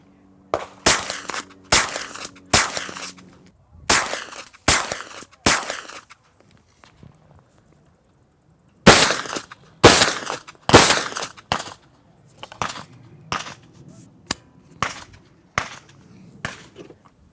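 Suppressed gunshots from a CGS MOD-9 firing 115 grain Blazer standard-velocity ammunition ring out as sharp, close cracks in uneven volleys of two to four shots, separated by short pauses.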